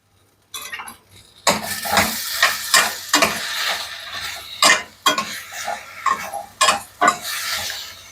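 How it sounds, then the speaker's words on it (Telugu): Peanuts and garlic sizzle in a hot pan with repeated stirring, a spoon scraping and clinking against the metal in irregular bursts over a steady frying hiss. "ఇది వేగుతూ ఉంటుంది."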